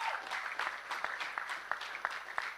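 An audience at the Caladium Lagos SME Bootcamp applauds, a moderate crowd of hands clapping steadily with sharper individual claps standing out, somewhat distant and sustained throughout.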